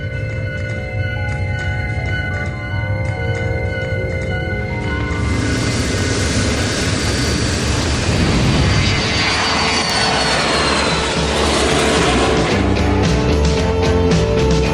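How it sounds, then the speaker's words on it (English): A small airplane drones loudly and continuously, its engine swelling into a fuller, rougher roar partway through as it passes close overhead. "is that not like a tiny plane to be going America?"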